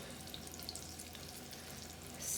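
Three thick brined pork chops frying in a pan, giving a steady, even sizzle and crackle throughout, close and fairly quiet, with no talking.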